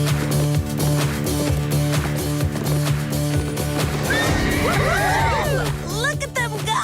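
A cartoon horse from a Barbie riding competition whinnies in several rising and falling calls partway through, mixed into steady background music and a voice speaking.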